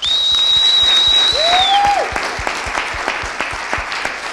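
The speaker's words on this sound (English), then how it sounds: "let's give our sponsors just a thank you applause" An audience at a women's business innovation event claps for the sponsors, a burst of applause that tapers into scattered individual claps, with a brief high whistle-like tone near the start.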